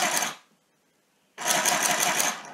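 A portable handheld sewing machine stitches fabric in two quick bursts of rapid, buzzing clatter, separated by a short silent pause.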